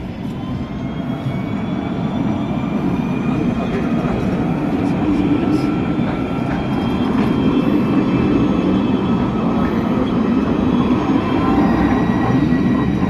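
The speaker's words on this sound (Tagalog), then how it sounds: "Ay, tren." A train rumbles past continuously nearby, a steady low roar with faint metallic screeching and rattling throughout.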